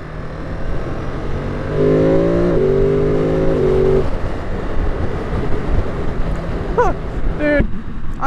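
A 2022 Ducati Monster+ accelerates in the rain with its quick shifter, its engine note rising in a short climb and stepping through shifts. Rain and road noise hiss steadily behind it, and a voice is briefly heard.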